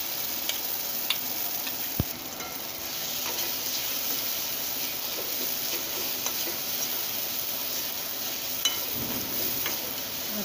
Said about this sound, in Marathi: ते चांगलं तेलामध्ये फ्राय करून घ्यायचं